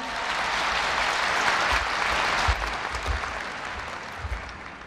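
Large crowd applause at a Korea University freshman entrance ceremony welcoming a guest speaker, a broad sustained roar of clapping that gradually thins toward the end.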